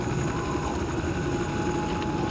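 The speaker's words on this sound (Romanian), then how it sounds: "Ok, suntem într-un elicopter." A helicopter in Counter-Strike: Condition Zero Deleted Scenes gives a steady, muffled rotor and engine drone with a faint mechanical rattle, quiet and continuous throughout.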